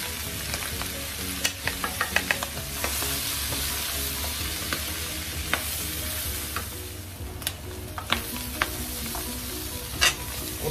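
Vegetables and spices for samosa filling sizzle in a pan, a continuous fry with repeated clinks and scrapes of a spatula stirring, close and fairly loud, no talking.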